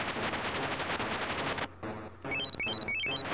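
Arcade game audio from Wizard of Wor with a dense burst of rapid electronic firing and buzzing, a short drop, then chirping rising beeps, loud and continuous with no voices.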